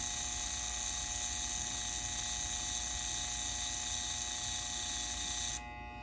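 A small model locomotive electric motor, running on a bench, whirs at a steady high pitch for several seconds before cutting off near the end.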